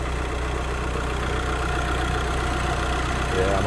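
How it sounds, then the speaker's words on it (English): A selfbuilt Crafter/Sprinter campervan engine idles steadily, a low continuous hum with even mid-range drone and no change in pace, heard close and alone. "Engine sounds quiet."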